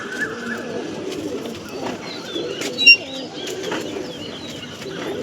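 Punjabi pigeons kept by a home breeder coo softly and repeatedly, low murmuring calls with a brief flutter partway through and faint background movement.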